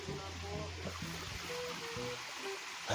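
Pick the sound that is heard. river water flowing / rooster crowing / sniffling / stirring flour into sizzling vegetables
river water flowing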